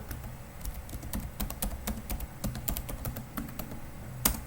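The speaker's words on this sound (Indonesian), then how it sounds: "Sini saya akan masukkan passwordnya" Fingers typing a password on a computer keyboard, a quiet, fairly close run of irregular key clicks with one sharper keystroke near the end and no speech.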